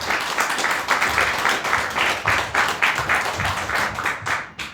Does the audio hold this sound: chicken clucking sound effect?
no